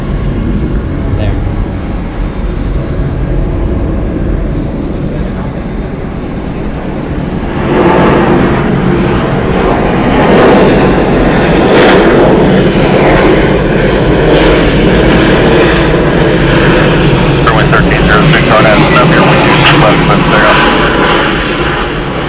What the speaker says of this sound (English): Departing here, Delta Airlines flight 2169 going to Montreal. It is a Boeing 717.